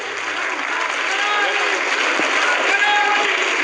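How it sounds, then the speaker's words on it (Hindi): Audience at a Sanatan religious gathering applauds loudly to welcome a legislator, a dense, sustained clapping that holds steady and swells slightly toward the end, with no voices over it. "हमारे बीच में विधायक अभिजीत सिंह सांगा जी पधार चुके हैं, एक बार जोरदार तालियों से उनका स्वागत करेंगे।"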